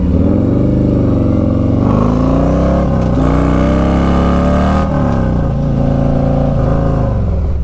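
A Harley-Davidson Street Glide Special FLHXS motorcycle engine roars loudly close up, pitch climbing and dropping through gear changes as it accelerates, with a steady mechanical drone throughout.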